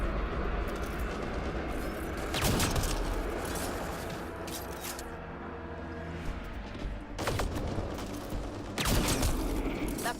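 Gunfire rings out during a firefight with pirates in the sci-fi game Mass Effect Andromeda: sharp bursts at scattered moments over a steady, dense bed of mechanical combat noise, with no one talking.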